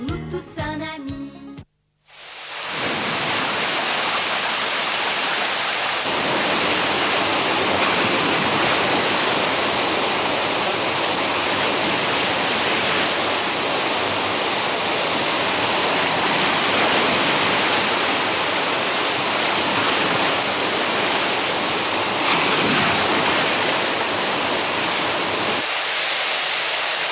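Steady heavy rain pours in a cartoon soundtrack about Tom Sawyer by the Mississippi, a loud, continuous broadband wash that fills the whole stretch alone after a brief burst of music at the start.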